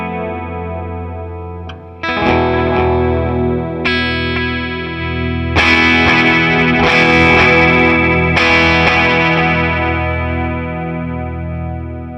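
Electric guitar through a Suhr Discovery analog delay pedal, loud ringing chords and single notes struck in bursts, each decaying into smeared repeating echoes with no talking.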